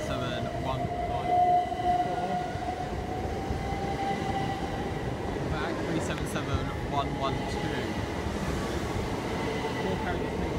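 A Class 377 electric train runs at Haywards Heath station, a steady rumbling drone with a faint rising whine holding throughout, fairly close, with a few thin metallic squeals partway through.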